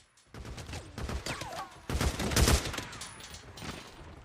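Repeated, close gunshots from the open-world zombie game Days Gone crackle in uneven bursts, mixed with shrill squealing cries and rising in loudness toward the middle.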